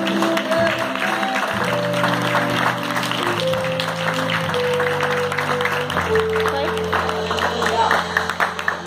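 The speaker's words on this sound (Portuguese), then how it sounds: "Quem pode aplaudir o Rei Jesus?" A church congregation applauds in praise with continuous clapping, while sustained keyboard or organ notes play underneath throughout.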